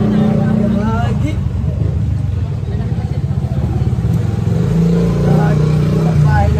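A motorcycle engine runs close by on a street, a loud, low, throbbing drone that holds throughout with slight rises in pitch, while people talk over it.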